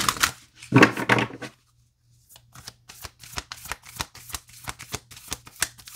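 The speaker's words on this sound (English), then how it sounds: "Let's pull some love oracle cards." Oracle cards being shuffled by hand close up: a brief riffle burst, a pause, then a run of quick, crisp flicks and slaps of card stock in an irregular rhythm.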